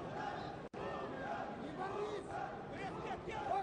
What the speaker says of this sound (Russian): Турецкие болельщики кричат.